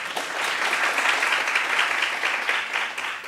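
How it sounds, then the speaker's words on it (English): An audience at a university optometry undergraduate research presentation event gives warm, sustained applause, many hands clapping together at a steady level throughout, with no talk over it. "A round of applause for them."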